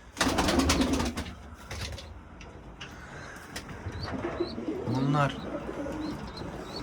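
Pet pigeons in a home loft coo softly at close range, with a distinct low cooing call near the end. Flapping, rustling and faint chirps from young birds mix in over a quiet room.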